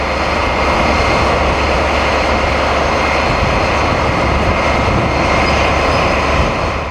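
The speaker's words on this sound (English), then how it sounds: "The leading loco seen here has the original MTU R41 2200 kilowatt engine installed, whilst the second is fitted with the new, slightly more powerful MTU R43 design." Two diesel locomotives run together, the leading one with an MTU R41 2200 kW engine and the second with an MTU R43, giving a loud, steady, close engine roar that holds throughout with no voices.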